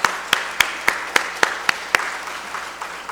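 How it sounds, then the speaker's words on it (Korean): A church congregation claps during a worship service, with sharp, evenly spaced claps in a steady rhythm that fade toward the end over a soft room wash. "우리 다시 한번 박수로 축복합니다"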